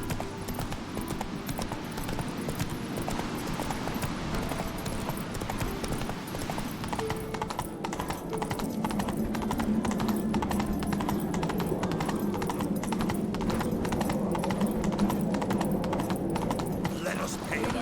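Hooves of Roach, a horse in The Witcher 3, clip-clopping in a steady trotting rhythm that grows louder partway through, beneath game music and spoken dialogue.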